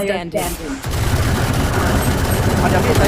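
Dense, rapid bursts of Valorant gunfire rattle continuously and loudly after a brief moment of voices at the start.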